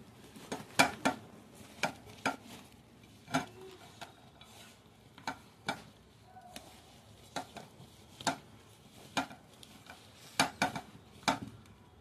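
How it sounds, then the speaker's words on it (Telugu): Sliced mango pickle pieces are mixed with oil by hand in a bowl, giving soft wet squelches and a steady series of light clicks and knocks spaced about a second apart, close and fairly quiet. "చేతితో ఇలా కలిపేసుకోవాలండి ముక్కల్ని. ఆయిల్ మొత్తం ముక్కలకి పట్టేటట్టు ఇలా కలిపేసుకోవాలి."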